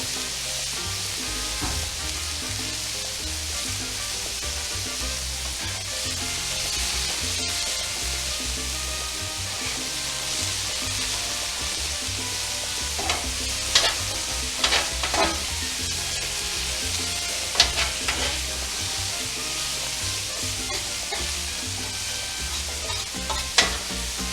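Thick-cut steak sizzles steadily in hot oil for fajitas, a continuous loud crackle with occasional scrapes and pops from stirring throughout.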